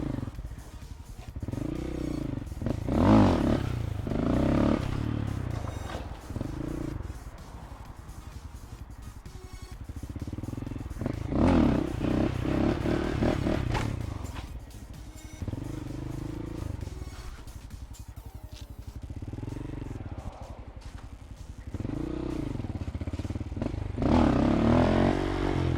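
A Honda Grom motorcycle revs up and down through repeated wheelies, its small engine rising and falling in loud surges with brief lulls between runs, nearby and without talk.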